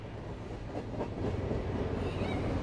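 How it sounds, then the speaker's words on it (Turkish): Rumbling train going by, a steady low roar of rail transport with faint clattering that swells slightly midway and holds loud to the end, no voices. "Mesela arkadan tren mi geçiyor?"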